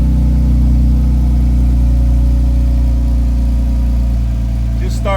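A Jeep engine idling just after starting, heard from inside the vehicle with a crushed muffler: a loud, steady, rough low drone that holds throughout, then a brief higher sweep near the end.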